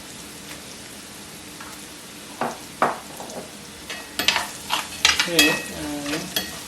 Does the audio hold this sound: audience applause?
no